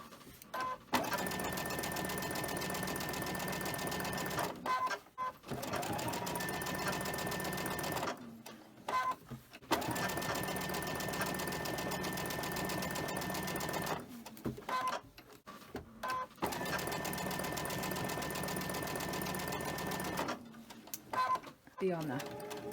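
A sewing machine stitches quilt fabric during quilt assembly, running in long steady bursts separated by brief pauses, close and loud, with a little talk between runs.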